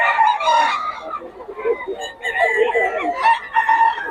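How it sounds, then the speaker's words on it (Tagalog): Several roosters crow loudly and close by at a market in Bocaue, overlapping calls with clucking fowl and a busy background of voices. "Napakamura ng mga manok ni Boss Gaga."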